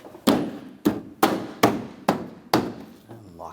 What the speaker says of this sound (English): On the sides, you want to push it into the clips.